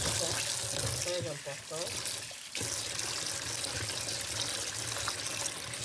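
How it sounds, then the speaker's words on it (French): Lukewarm water runs steadily from a kitchen tap for washing fish, a continuous hiss under someone speaking French, with a short dip partway through. "Donc là, je vais mettre de l'eau tiède."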